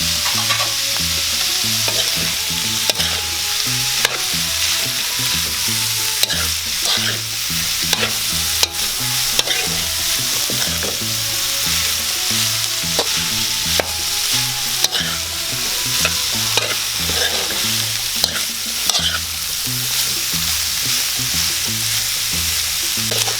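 Beef stir-frying in a pan makes a loud, continuous sizzle, broken up by repeated sharp clacks and scrapes of a utensil stirring the meat, with no voices.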